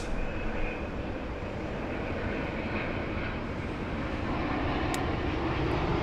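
A jet airliner roars steadily past at LAX airport, a loud, broad engine rumble filling the whole stretch and building slightly toward the end, heard outdoors with no talking.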